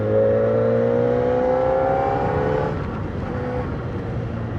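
Kawasaki ZX-4RR 400cc superbike engine running up close, a loud, steady, buzzing drone that holds its pitch, then eases off slightly about three seconds in and carries on at a lower level.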